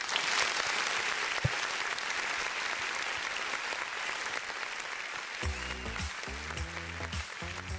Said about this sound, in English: We continue clapping